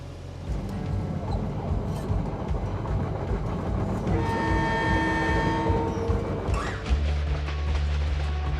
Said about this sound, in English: The first freight train in 10 months is able to roll all the way from Picton to Christchurch.